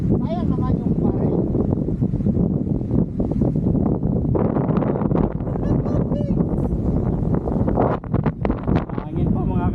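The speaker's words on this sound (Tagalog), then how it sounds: "Hangin pa mga kapatid." Strong wind buffets the microphone outdoors at a long-range rifle shooting range, a continuous loud roar with gusty swells, while people talk over it.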